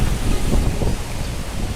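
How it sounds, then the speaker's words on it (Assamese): Strong, cold mountain wind in Kashmir roars and buffets the microphone continuously, a loud rumbling gust with no voices. "বহুত বতাহো আছে ওপৰ ফালে"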